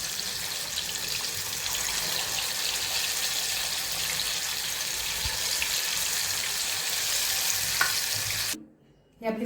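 Coriander vadi pieces deep-frying in hot oil, a steady close crackling sizzle that runs unbroken for most of the stretch, then cuts off abruptly near the end.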